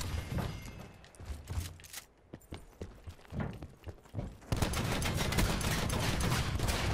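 Gunfire in Call of Duty Black Ops 4 Safeguard mode, scattered sharp shots and bursts with movement noise, then a dense sustained barrage of rapid fire near the end.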